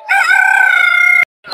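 A rooster crows loudly and close at a rural village chicken market, one long drawn-out call that cuts off abruptly, followed by a brief cluck.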